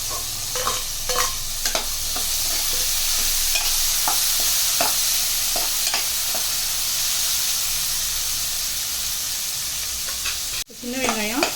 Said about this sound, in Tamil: சின்ன வெங்காயம் சேர்த்துக்கிறோம்.